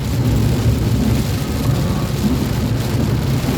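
Heavy typhoon rain pours steadily and loudly in a dense, continuous roar outdoors on a street during Typhoon Enteng, with no talk.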